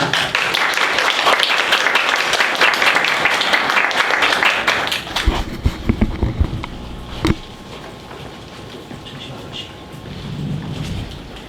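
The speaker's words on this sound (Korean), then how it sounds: "큰 박수 부탁드립니다" Audience at a food-tech forum in Gangnam applauds to welcome a lecturer onto the stage, a dense sustained wash of clapping that thins out and fades after several seconds, leaving room noise.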